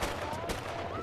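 Gunfire from the L.A. Noire video game, a dense broadband burst with sharp shot peaks at the start, middle and end, over a constant noisy background.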